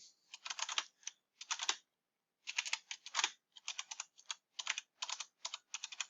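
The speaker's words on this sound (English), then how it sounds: "I'd type it in" Fingers type on a computer keyboard in quick clattering bursts, with a short pause midway, crisp and close with no talking.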